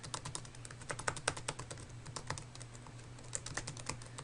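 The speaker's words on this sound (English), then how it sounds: "I can use the WASD keys to move this thing around up and down" Rapid, uneven keystrokes on a computer keyboard as the WASD keys are tapped to steer, clattering steadily and close up with no voices.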